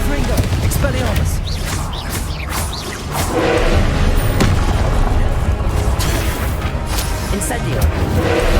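Confringo spell explosions in Hogwarts Legacy, a string of loud booming blasts going off repeatedly, with crashes and clattering debris in a busy fight and voices speaking over it.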